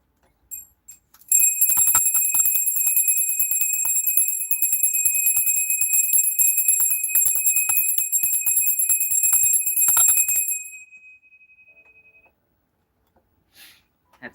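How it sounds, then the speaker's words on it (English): A small bell rung during a tarot reading, its bright sustained ringing with rapid repeated strikes lasting several seconds before fading, loud and close, with a few faint sounds afterward. "Let me ring the bell, clear that out a little bit."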